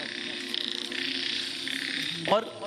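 A dense chorus of frogs croaks continuously in a steady, buzzing drone, with a brief vocal-like sweep near the end.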